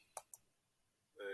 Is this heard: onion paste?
no